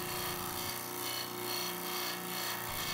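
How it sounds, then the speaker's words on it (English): A power sander grinds down the end of a screw for a shop-built all-wood deep-reach C-clamp, a steady whirring motor with rough, continuous abrasive rubbing throughout. "So I need to sand down the end of the screw here so that it will fit inside of the clamping pad."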